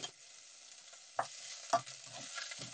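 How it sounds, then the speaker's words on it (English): Spring onions frying in a pan give a soft, steady sizzle, broken by a few sharp knocks and scrapes as a utensil stirs them, close by with no speech. "I'm going to add this to the pan, just like that. I'm just going to fry these for two minutes."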